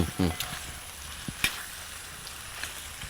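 A spice mixture of pepper powder and turmeric being stirred in a bronze uruli in a Kerala kitchen, with faint sizzling and a few scrapes and knocks of the spoon, quiet and close.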